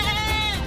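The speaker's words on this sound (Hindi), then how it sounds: "दिस इज नॉट बकरी voice, this is my phone voice. ये मेरा रिंगटोन है माँ, रिंगटोन है।" A phone ringtone plays a goat's bleat, a loud, wavering, sustained bleat heard close up and on its own.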